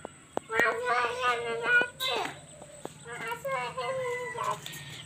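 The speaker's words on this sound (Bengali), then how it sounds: "তুমি কি হাঁসের বাচ্চার সঙ্গে খেলা করতেছ নাকি সাদ বাবু?" Ducklings peep in quick, high bursts close by, with bright repeated chirps and clucks and some pauses, while people and someone talk over them.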